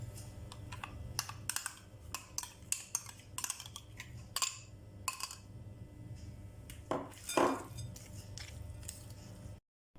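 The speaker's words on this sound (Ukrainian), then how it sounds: "Трішки підсолюємо за смаком і перемішуємо все з майонезом." Crab stick salad with croutons being stirred together with mayonnaise, a dense run of close clicking, scraping utensil taps against a bowl, busy and irregular, ending in a brief silence.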